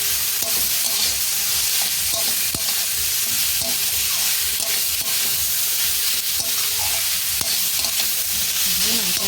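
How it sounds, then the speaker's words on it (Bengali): Squeezed grated radish stirred and fried in a wok for radish paratha filling, a dense continuous sizzle with frequent spatula scrapes close by, no voices. "এরকম চিপে মূলোটা এর মধ্যে কড়ার মধ্যে এবারে দিয়ে দেবো। এবারে ভালো করে নাড়াচাড়া করতে হবে।"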